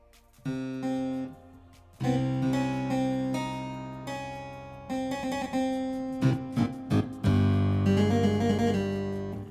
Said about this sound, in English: Let's see if we actually have a harpsichord so you can hear it here.